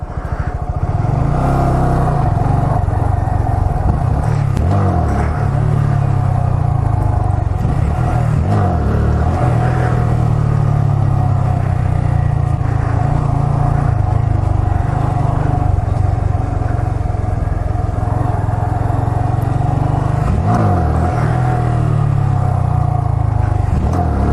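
A motorcycle engine held at around 4,000 RPM during wheelie practice, a loud, close, steady rumbling drone with slight fluctuations throughout and no talking.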